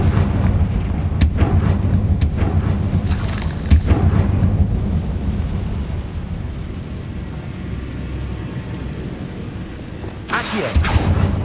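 Fiery Confringo spell blasts from Hogwarts Legacy boom in a few heavy bursts, with a dense rumbling roar rolling between them and a final loud explosion near the end.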